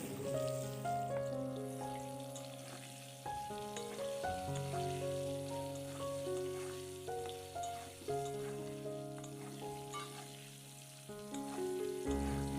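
Potatoes seasoned with turmeric, chilli powder and salt frying in a pan. They give a soft, continuous sizzle beneath louder tonal background sounds, with no talking.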